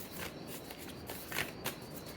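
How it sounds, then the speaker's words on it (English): A deck of oracle cards being shuffled by hand, with soft riffling and papery slaps in an irregular rhythm, fairly quiet and close, with no talk over it. "This deck is a little hard to shuffle, so don't mind me."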